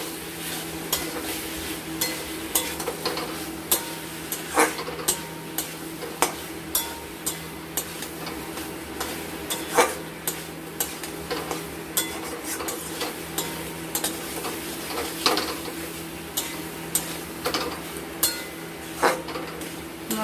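Spice paste for rohu fish curry with potato and taro fries in a pan over a medium flame, a steady soft sizzle broken by repeated clinking strokes of a spoon stirring against the pan, close and continuous with no talk.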